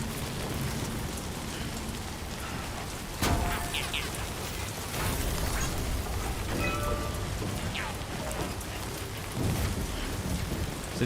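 Timefall rain pours steadily in the video game Death Stranding 2, a dense wash of falling drops with occasional louder splashes and thuds. No one speaks over it.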